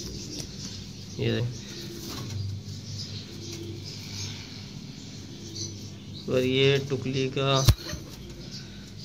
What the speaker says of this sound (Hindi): ये काला कबूतर है गाइस